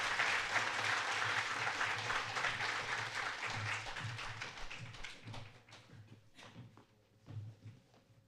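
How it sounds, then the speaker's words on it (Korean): A church congregation at a Korean New Year's Eve service claps to bless a new family, starting as dense applause that thins into scattered, fading claps toward the end. "다시 한번 새 가정 박수로 축복하고 들어가겠습니다."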